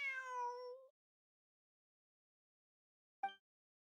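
A cat meows in Genshin Impact, one clear drawn-out tonal meow followed after a pause by a short clipped second meow, close and quiet, with no talk.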